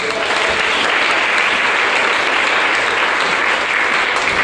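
A church congregation breaks into loud, sustained applause, a dense, even wash of many hands clapping together with no pause.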